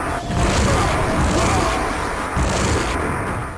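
Thunderbolt lightning gun firing in the Quake video game, a continuous crackling electric buzz with bursts and dips over a few seconds, loud and close.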